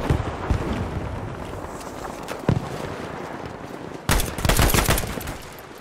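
In a Battlefield 5 match using the Ag m/42 and M1A1 Carbine, gunfire cracks out as a few isolated shots early, then a loud close burst of rapid fire near the end.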